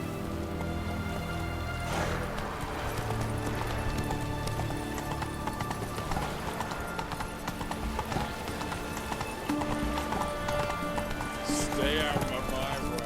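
Roach the horse galloping in The Witcher 3, steady hoofbeats under game music and ambience, with voices talking over the ride.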